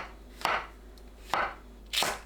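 A knife slices button mushrooms into half-centimetre pieces on a cutting board, three distinct crisp chops spaced about a second apart, close and clear over a quiet hum.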